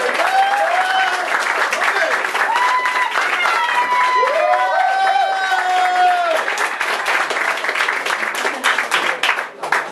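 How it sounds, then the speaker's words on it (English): A comedy roast crowd applauds and cheers for the guest of honor, loud clapping under whoops and shouted voices, with the clapping turning sparser and more distinct near the end. "let's give a glorious round of applause for Mr."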